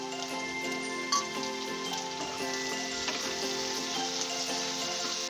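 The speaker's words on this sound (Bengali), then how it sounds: "টমেটো আর কাঁচামরিচ," Tomatoes and green chillies frying in oil with onions in a frying pan make a dense, even sizzle with fine crackling like light rain, close and steady, alongside a faint tonal background.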